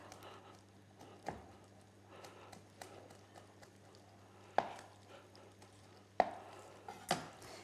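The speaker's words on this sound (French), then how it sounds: "je vais Hacher finement les fines herbes." Fresh herbs chopped finely with a knife on a board, a few sparse, sharp knocks spaced apart over a quiet kitchen background with a low steady hum.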